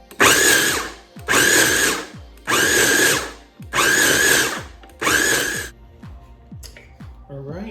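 Pistachios are ground in a grinder with five loud, even motor pulses of about a second each, separated by brief pauses, then quieter rattling and clinking as the nuts settle.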